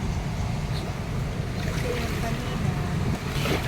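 Strong, fast flood current in Marikina during a typhoon, a loud continuous rushing wash of water with wind buffeting the microphone.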